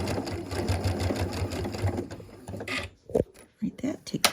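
A sewing machine stitching a quilt block piece runs in a steady, rapid mechanical hum for nearly three seconds, then stops, followed by scattered handling clicks and rustles nearby.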